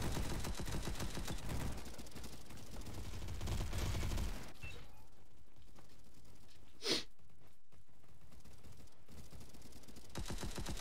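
Gunfire in the video game Bad Business opens with dense, rapid bursts for about four seconds. It then falls quieter, with one sharp isolated shot a few seconds later.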